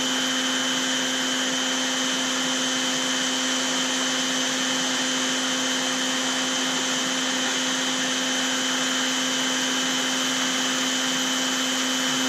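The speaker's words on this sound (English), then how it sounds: "Alright, so the spindle's on. And I'm just going to come down a little bit until I'm hitting wood." Spindle of a Longmill CNC router running while lowered to score wood: a loud, steady, unbroken whine with strong tonal hum, constant throughout at close range.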